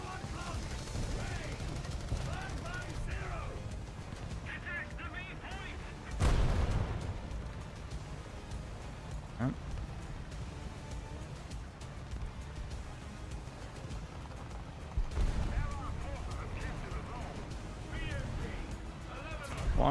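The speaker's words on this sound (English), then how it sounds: "I feel like they were shooting at me." Gunfire in a shooter video game, with sporadic shots and a couple of heavier bursts under a player's ongoing talk, mostly faint behind the voice.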